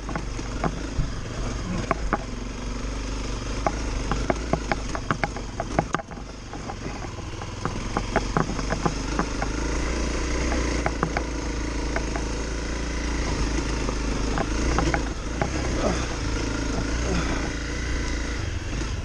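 A tractor engine chugs and labors steadily with clattering knocks and bursts of revving, loud and close, with occasional voices.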